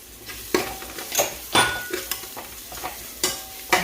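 A spice tempering of onion, garlic, masala, chili powder, green chilli and coriander powder sizzles in hot oil, with a low hiss under a series of sharp clinks and scrapes as a spoon stirs the pan.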